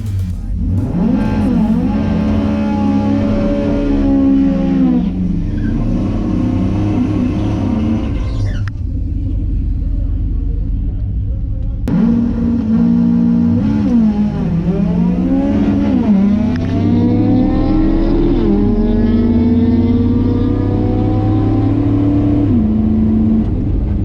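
A Dodge Dakota R/T truck with a Mopar M1 intake roars and revs hard on a drag strip, climbing in pitch through repeated gear changes, drops off briefly, then accelerates again with a deep rumble.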